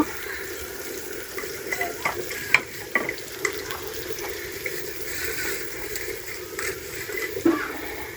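Silver fish fry in a pan with garlic, giving a steady, close sizzle with occasional scraping stirs and clicks of the spatula, and no talking.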